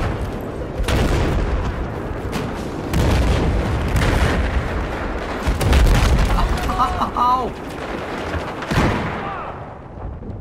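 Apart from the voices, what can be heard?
tank gunfire and explosions in Battlefield 4 video game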